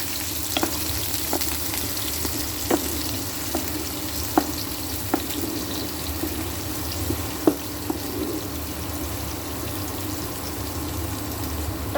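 Cumin, mustard seeds and chopped onion fry in hot oil, a steady close sizzle with scattered sharp pops and crackles throughout.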